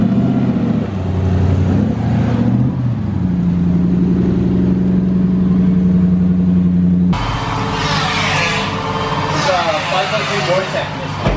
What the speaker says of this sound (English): I do like the sound of a Vortec